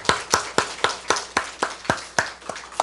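Congregation clapping hands together during an Easter dawn church service, about eleven sharp, evenly spaced claps in a steady rhythm, fairly close and alone with no talk.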